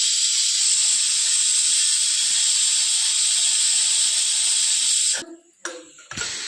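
Steam hisses sharply and continuously from a pressure cooker of brinjal tomato curry for several seconds, then cuts off, followed by a few short clunks.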